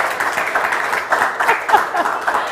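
A live audience at an Irish comedy show claps in steady applause, a dense patter of many hands that swells and continues throughout.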